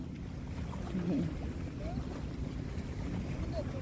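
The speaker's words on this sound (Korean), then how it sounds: "파도 소리 들리세요?" Waves wash against the shore at the seaside at night, a steady, soft rushing surf with a low rumble that carries on throughout, alone and without talk.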